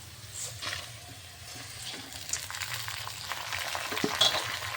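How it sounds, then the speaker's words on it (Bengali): Continuous crackling sizzle of rice frying with fried lentils in a pan for khichuri, with occasional stirring scrapes, growing slightly louder toward the end. "চাল দিয়ে এবার এর সঙ্গে ভালো করে একটু ভেজে নেব।"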